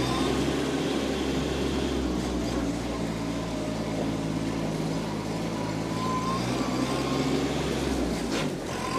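A 2020 Kubota B2401D compact tractor runs in second gear, its diesel engine holding a steady low drone throughout, loud and close, with a faint higher tone near the end.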